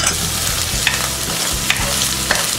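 Chopped chicken frying with onions in soybean oil, a steady loud sizzle with a few sharp scraping stirs of a spatula in the pan, no voices.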